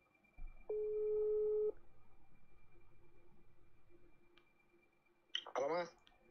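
A telephone call connects with a single steady ringback tone, then a faint repeating line pulse, and a voice answers near the end.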